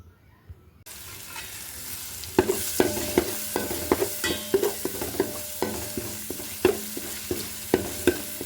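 Ginger and garlic sauté in a hot pan for a festive Eid dish: a continuous sizzle under repeated sharp spatula scrapes and clinks in an irregular stirring rhythm, close and fairly loud.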